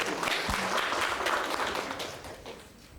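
Applause from an audience of community members from across East Kalimantan at a green jobs and energy transition event, a dense wash of clapping that fades toward the end with no talk over it.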